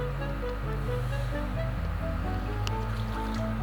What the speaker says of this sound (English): we're going to add some water into our pan